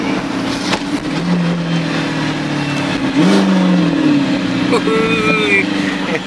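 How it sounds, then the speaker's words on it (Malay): A deep twin-turbo V8 Audi R8 engine rumbles and blips as it shifts down, revs rising and dipping with crackles, loud and steady over several seconds. "Banyak layan bunyi tu lah. Bunyi downshift lah."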